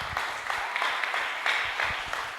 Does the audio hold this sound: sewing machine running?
no